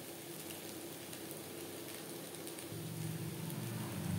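Spiny gourd stirred with grated coconut in a pan over a medium gas flame gives a steady, soft sizzle, a continuous hiss that thickens slightly toward the end.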